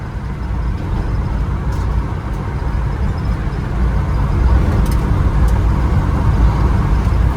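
A 1969 barn-find car with low fluid and uncertain third gear on its first road test, engine droning and road rumble loud and steady from inside the cabin, growing slightly louder as it drives.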